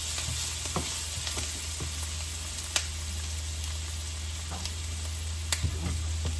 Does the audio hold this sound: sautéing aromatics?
yes